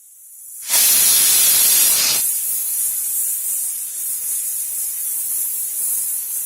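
Pressure cooker holding ivy gourd and tomato curry letting off steam, a sudden loud shrill whistle-hiss for about a second and a half, then a steady airy hiss that continues alone.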